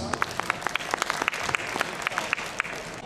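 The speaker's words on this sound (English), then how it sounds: "A round of applause, please." An audience at a Batangas barangay league event in 2017 gives a round of applause, a dense patter of clapping with several sharp individual claps standing out near the front.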